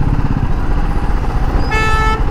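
A car horn honks in one sustained blast near the end, over loud, constant traffic and engine rumble, heard from a Royal Enfield motorcycle.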